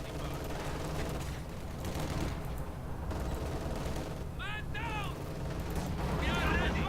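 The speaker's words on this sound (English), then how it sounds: "Getting pinned by the MG42. MG42 putting in some work." MG42 machine gun firing in Company of Heroes 2, sustained rattling bursts mixed with other battlefield gunfire and a few whistling shell sounds, steady and fairly loud.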